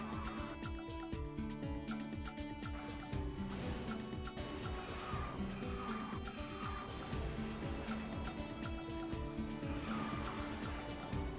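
Go-kart drifting through a corner in KartRider, a steady loud mix of engine buzz, squealing tires and busy game music running without pause, with no talk over it.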